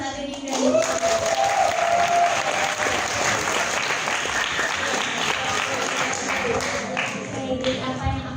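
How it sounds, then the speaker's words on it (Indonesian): A crowd of students at a campus visit to Unpad claps in a dense, steady round of applause, with a voice audible through it. "boleh banget kita kasih tepuk tangan"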